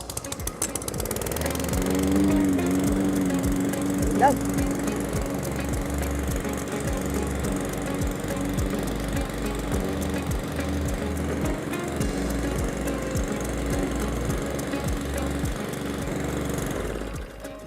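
A Cobra M51SPCVX self-propelled petrol lawn mower engine runs steadily with a close, rattling drone throughout, while someone speaks briefly over it.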